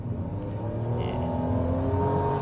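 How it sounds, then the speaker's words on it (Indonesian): A 2023 Nissan Kicks e-Power accelerating, its engine giving a loud, steady rising drone with whirring tones that build smoothly through the clip, heard close with no talk. "walaupun ada suara mesin"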